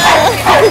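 Short high-pitched yips from many dogs, including small ones, a couple of quick overlapping barks and whimpers, loud and close.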